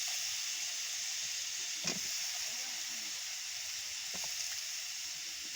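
Taro and eggplant pieces sizzle steadily in hot oil, a constant close hiss with a few soft clicks from stirring; no voice is heard.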